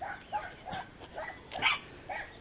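Dogs bark from behind a fence at passing dogs, a series of short, moderately loud yapping barks in an uneven rhythm, heard from close range with no talking.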